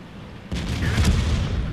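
A tank cannon fires in World of Tanks as one sudden loud boom, with a rumbling tail that lingers to the end and no speech.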